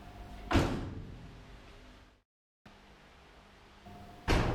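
Doors of a bare Audi Quattro shell slam shut twice, one sharp near thud early and another at the end, with a quiet gap between.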